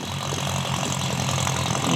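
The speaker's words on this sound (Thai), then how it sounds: "ใช้รถไถเครื่องจักรมาช่วยในการทุ่นแรงครับ" A heavy diesel Kubota or Yanmar tractor engine idles steadily up close, a low throbbing rumble with a rattly mechanical chatter, continuous and fairly loud, with no voices.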